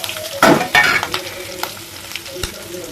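Carrot, onion and green chillies with spices frying in a pan for potato rice, a close hiss and sizzle with a couple of louder stirring bursts and light utensil scrapes.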